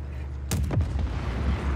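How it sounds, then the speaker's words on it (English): A big in-game explosion in Just Cause 4 bursts out loud and close, a sharp crack that rolls into a heavy rumbling boom and slowly fades over a steady background of game noise. "God, that explosion took a while."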